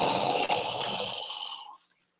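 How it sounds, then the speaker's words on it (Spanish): Snoring from a sleeping person, a single long, loud rasping breath that fades out at the end with no talk over it. "Y en lugar de escuchar un respaldo, escuchó un montón de ronquidos."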